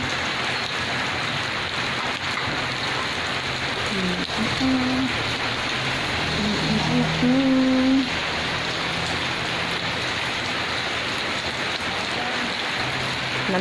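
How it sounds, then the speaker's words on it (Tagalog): Steady rain falls and patters nearby, a continuous hiss with a few brief murmured sounds and tonal chirps in the middle. "sige lag ulan naghapon-hapon lang jud ang ulan"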